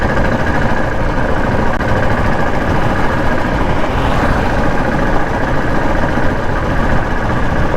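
A high-mileage Royal Enfield Bullet motorcycle with a rebuilt engine runs at about 40 km/h, a loud, steady low thumping drone mixed with wind rush, close and continuous with no talk.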